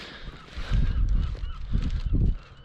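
Honking calls from birds on a calm beach, several loud nearby bursts in quick succession over a low background rumble.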